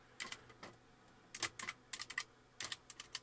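Keys clack on a Compaq Portable computer keyboard in short clustered bursts of typing, crisp and close, with brief pauses between groups and no talk.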